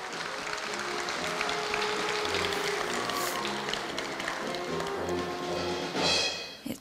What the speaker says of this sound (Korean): 모든 수상자들께 큰 박수 다시 한번 부탁드립니다